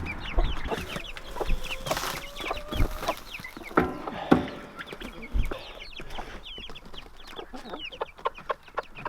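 Hens cluck and squawk in a busy chorus, close by on a farm, with scattered rustling and bumping noises and no talking.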